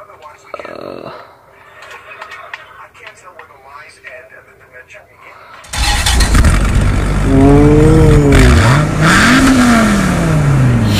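A racing car in the Roblox video game starts abruptly and roars loudly, its revs sweeping up and down through gear shifts at a circuit; a player talks over quieter game sounds beforehand.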